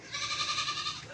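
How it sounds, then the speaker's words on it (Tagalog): A goat on a farm gives a single short, wavering bleat, fairly close and unaccompanied by talk. "Merong kambing."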